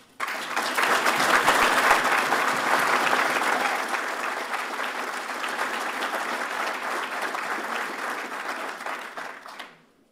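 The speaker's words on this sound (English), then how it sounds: "So the coaches I have in here, we all owe them a big round of applause." A hall of fame reception audience gives boxing coaches a long, steady round of applause, full and dense clapping from a crowd that holds for nearly ten seconds before cutting off abruptly.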